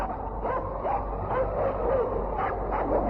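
Eskimo sled dogs barking and yipping in a snowy winter setting, their voices faint and distant beneath a heavy, constant wind-like rumble.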